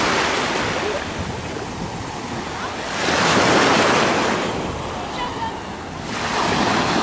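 Sea waves wash onto the shore in Alanya on a warm October day, a broad continuous hiss that swells into two louder surges, with some wind buffeting the microphone.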